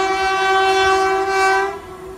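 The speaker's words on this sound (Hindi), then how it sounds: "ये रही हमारी कोई ट्रेन, देखते हैं कौन सी ट्रेन है।" An Indian railway train sounds a loud, sustained horn at night, a single long tonal blast that fades out at the end.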